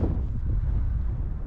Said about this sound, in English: The wind is quite extreme here